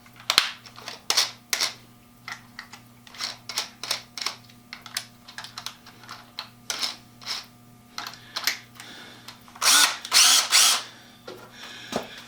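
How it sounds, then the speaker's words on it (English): Power driver running screws into a bench vise mount in a workshop, giving repeated short whirring bursts with brief pauses between them, close and fairly loud, ending in a longer burst. "driver does a great job of capturing the head and running the screw down."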